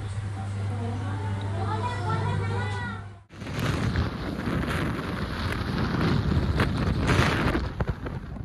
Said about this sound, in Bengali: গাছটা কি পরিমাণে হাওয়া ছেড়েছে